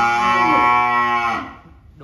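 A single bovine at a cattle sale lets out one loud, close, sustained moo that holds steady for over a second and then trails off, leaving faint background noise.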